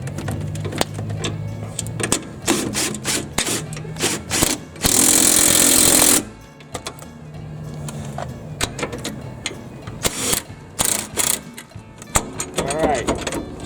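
A socket wrench tightens gripper nuts on the mower stabilizer of a Cub Cadet GTX 1054, giving irregular close clicks and metallic clatter, a burst of loud whirring in the middle, and someone talking between the tool sounds.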